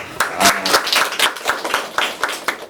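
Close, loud clapping from a small studio audience at a Korean talk show on AI, heard as a quick burst of distinct hand claps that stays fairly even throughout.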